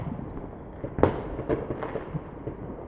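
Fireworks from New Year's Eve firework boxes going off, a series of sharp cracks and pops at irregular intervals, one louder bang early on followed by smaller bursts, heard from a moderate distance.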